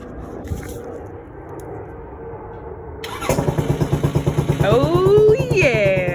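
An X22 GT motorcycle engine is cranked and fires up, then runs close and loud with rapid pulsing beats, revving upward with rising whine toward the end.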